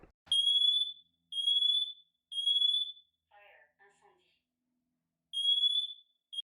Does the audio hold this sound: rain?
no